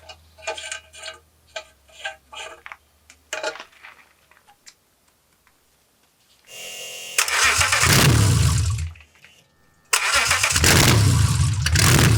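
BMW M54B30 straight-six in an E36 325i rebuild: a run of clicking and ticking gives way to the starter cranking and the engine catching, running roughly at a loud, unsteady idle, then cutting and restarting.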